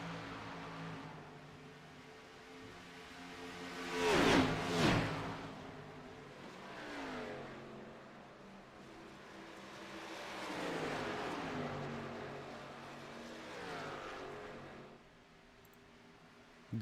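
Race cars in an Xfinity Series sim racing video game roar past one after another on track, engines rising and falling as they approach and fade, one loud close pass followed by several quieter ones.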